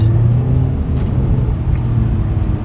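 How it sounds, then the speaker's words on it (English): Heard from inside the cabin, a 2021 Toyota GR Supra with a catted downpipe gives a steady, loud, deep engine and exhaust drone, with no one talking. "let's get some sights and sounds from this GR Supra"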